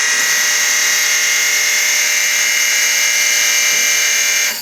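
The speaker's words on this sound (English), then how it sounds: "So that's the machine reaching the end of the strap." Mosca ROMP-6 heat seal strapping machine feeding until its strap runs out, a loud steady high motor whine with a constant tone that cuts off abruptly at the end.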